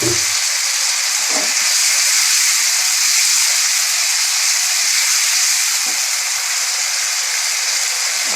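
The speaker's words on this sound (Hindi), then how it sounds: "और इसको थोड़ी देर के लिए प्याज से भून लेंगे।" Chicken and onions fry in hot oil in a pan, giving a loud, close, continuous sizzle and hiss with a few soft stirring bumps near the start.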